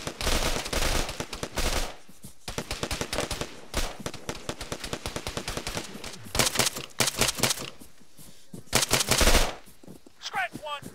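Machine gun fire in the military shooter Arma 3, loud sustained bursts of rapid automatic shots with brief pauses between volleys, close and harsh.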